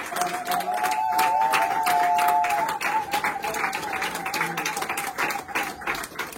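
Church congregation applauding and cheering for the Lord during a Sunday prayer and deliverance service, sustained loud clapping with voices rising through it and a sung or shouted tone early on.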